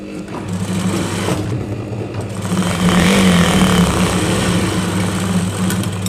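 A sewing machine runs a steady seam along salwar panels, its close, continuous mechanical whir holding a fairly even pace and swelling slightly louder midway, with no voices.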